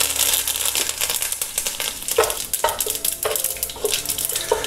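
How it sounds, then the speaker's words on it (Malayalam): Mustard seeds spluttering in hot oil with chilli and curry leaves, giving close, sharp crackling pops in irregular bursts over a steady sizzle. "കടുക് പൊട്ടി വരുമ്പോഴത്തേക്ക് ഇതിൽ മുളക് ഇട്ട് കൊടുക്കുക"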